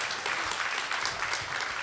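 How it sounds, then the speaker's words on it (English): An audience at a Full Sail University closed beta launch event for Ghosts of Tabor claps steadily, a dense, moderately distant patter of applause without any break. "Let's get a round of applause"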